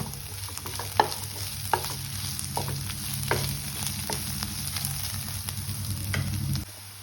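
A green chili fries in oil in a pan for home-style aloo gobi, with a steady close sizzle throughout and the repeated scrape of a spoon stirring, ending abruptly.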